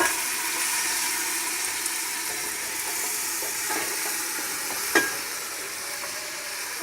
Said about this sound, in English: I have my hot oil and in the pot right here, and we're just gonna dump everything in all at once